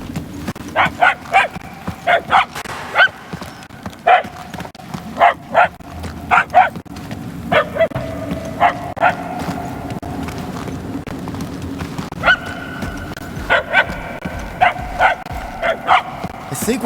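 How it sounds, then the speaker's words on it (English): Dog barks in Marvel's Guardians of the Galaxy video game come in short clustered bursts, repeating through the scene with pauses between, over a low ambient rumble and occasional talk. "The barks are getting louder at least."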